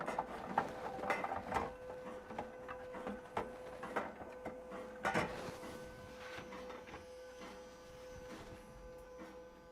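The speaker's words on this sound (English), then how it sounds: "Sorry for the noise. It's the drum is scraping." A machine's drum scrapes while it runs, giving irregular mechanical clicks, knocks and grinding over a steady hum, fairly quiet and close, with no talking.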